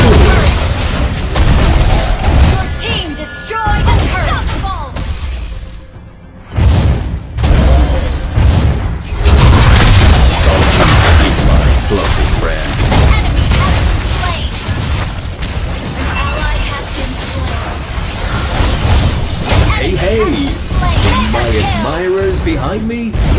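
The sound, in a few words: turret being destroyed in Mobile Legends video game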